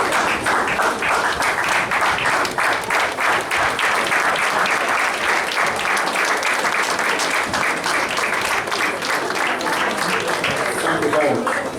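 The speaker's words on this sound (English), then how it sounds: "I think we need to give him a standing ovation." Audience at a university White Coat Ceremony in Dominica rising for a standing ovation, sustained loud applause from a large crowd filling the room with dense, steady clapping for over ten seconds.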